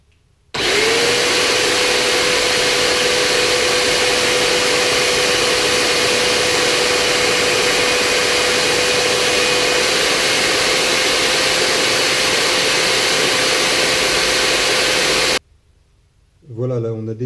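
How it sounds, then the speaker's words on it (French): A power drill spins a fishing rod blank at a steady whirring pitch while coarse sandpaper adds a rough, gritty scraping, running continuously before switching off. "Au papier de verre, gros grain,"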